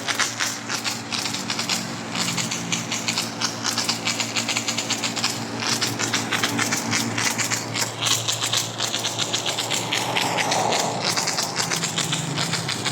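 A car wash vending machine's air blower roars continuously at close range, a powerful, steady rush of blown air, loud and unbroken, with a faint mechanical rattle underneath.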